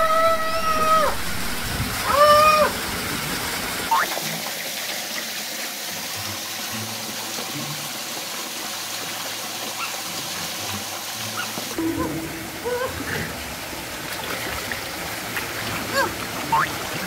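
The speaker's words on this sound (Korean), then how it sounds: "폭포 한번 맞아주십시오." A waterfall pouring into a gorge pool, a constant rushing roar of water nearby, with voices calling out over it at moments and splashing near the start.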